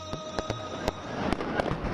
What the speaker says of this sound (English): a spectacular fireworks display lit up the sky, filling the air with joy and devotion